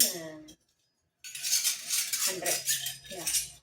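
Metal spoons clink and rattle as they are handled and counted close by, a short chime followed after a brief silence by a run of jangling clatter. A voice speaks between the clinks.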